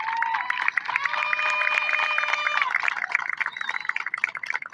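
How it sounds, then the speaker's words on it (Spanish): Crowd at a batucada duel final in Villa Unión, a steady wash of cheering and whistling voices with scattered clapping, with a sustained tone running through the noise. "Así que aplausos para ustedes."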